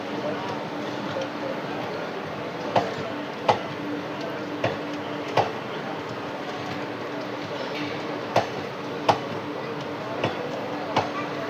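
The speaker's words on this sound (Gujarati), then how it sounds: "અહીંયા સામને ઓલું પેલું તડક તડક વાળું પણ ટ્રેક સાઉન્ડ આવી રહ્યું છે" Clattering rail-joint clicks from a Porbandar–Rajkot passenger train with ICF coaches pulled by a WAG-9 locomotive, heard as sharp periodic clacks over a steady rumbling hum, fairly close, with no talk.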